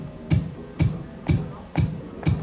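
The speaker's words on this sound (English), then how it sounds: "16 bars of bass drums there" Sequenced bass drum kick pattern from MIDI keyboards, five evenly spaced thumping kicks about half a second apart over a steady background hiss.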